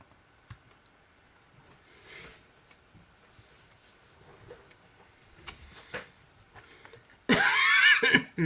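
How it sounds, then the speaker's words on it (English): A single harsh cough bursts out near the end, loud and close, after a stretch of quiet room noise and faint clicks. "Got a little bit of a cough."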